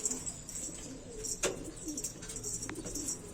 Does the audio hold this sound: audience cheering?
no